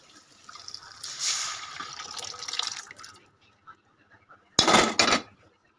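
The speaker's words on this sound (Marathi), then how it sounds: "आता मी टाकून घेते मटकी." Sprouted moth beans (matki) tip into a hot pan of spiced oil for misal, giving a soft sizzling rush followed by two short, loud bursts of scraping clatter.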